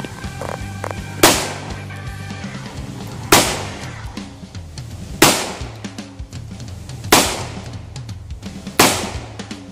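.357 Magnum rounds fired into a sheet of plexiglass give five loud, sharp shots at even intervals of about two seconds, over faint background music.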